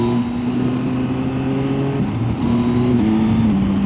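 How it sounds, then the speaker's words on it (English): Yamaha XSR900 GP motorcycle engine held at full throttle, a loud steady droning whine that steps up in pitch twice as gears change, close and unbroken. "I'm gonna open throttle full and change it."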